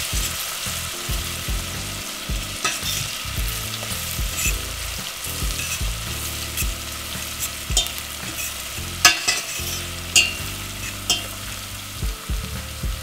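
Spiced chicken feet frying in a pan get stirred steadily, a continuous loud sizzle broken by repeated scraping strokes of the spoon, close up and with no voices.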